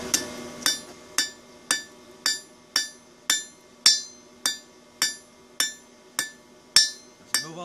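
A hammer strikes a hot steel bar on an anvil in a forge, ringing out in about fourteen evenly spaced, bright metallic blows with a clear ringing decay after each, close and alone.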